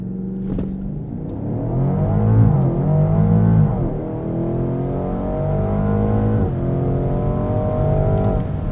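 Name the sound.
BMW Alpina XB7 SUV launch acceleration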